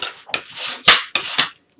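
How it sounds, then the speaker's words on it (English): Paper burnished down by hand while assembling a circus-themed mini album, heard as a few short, close rubbing strokes against the paper, alone and fairly loud. "Burnish that down."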